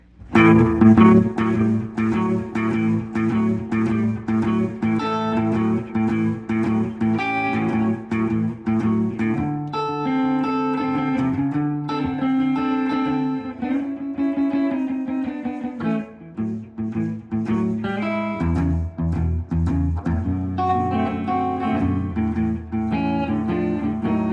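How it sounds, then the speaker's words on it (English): Blues guitar is played through a Fender Tonemaster Deluxe Reverb amp with added reverb, with steady picked notes and chords ringing with spacious echo for the whole stretch. No talking. "I'm going to play something similar and with the added reverb using the Tonemaster"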